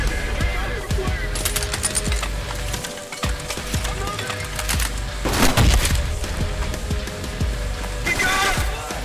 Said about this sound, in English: Heavy grenade launcher.